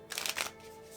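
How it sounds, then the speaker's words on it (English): Board game market card deck being shuffled by hand, a brief burst of crisp riffling near and close, then quieting to a soft background hum. "we're then gonna shuffle up this market deck"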